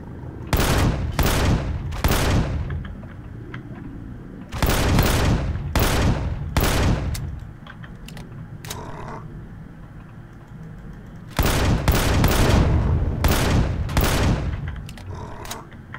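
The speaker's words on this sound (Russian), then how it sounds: "Пушка." Loud gunfire from a cannon in the video game Empyrion Galactic Survival comes in three bursts of rapid, evenly spaced shots, with quieter gaps and scattered clicks between them.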